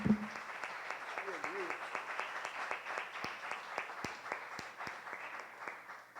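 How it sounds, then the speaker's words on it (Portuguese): A church congregation claps at a celebration service, a moderate, somewhat distant wash of applause with individual claps standing out, and a brief voice at the start. "pode aplaudir ao Senhor,"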